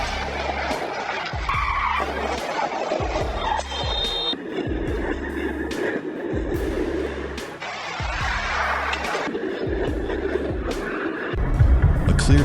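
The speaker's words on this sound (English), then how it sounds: "This real accident was recorded clearly, showing the moment vehicles collided." Road vehicles skid and collide in dashcam-recorded crashes, with loud tire screeches and engine noise running throughout and a harsher burst of noise near the end.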